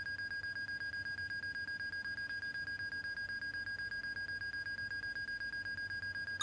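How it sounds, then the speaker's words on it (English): A flight simulator game's stall warning keeps going after the flaps are extended: a constant high-pitched electronic beep repeating in a rapid, regular pattern at an unchanging level, alone with no voices. "Why is that alarm going off? I've not heard that before."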